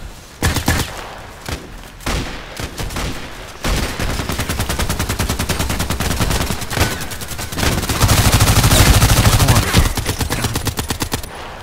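Rapid automatic gunfire from a tier 3 gun in the shooter game Contract Wars, sustained bursts rattling almost continuously with a few brief gaps, loud and close throughout.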